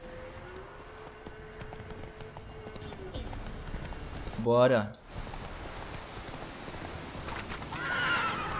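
A horse in the video game The Witcher 3: Wild Hunt neighs in a short, loud whinny while hooves clip-clop faintly in the background, with someone speaking quietly beforehand.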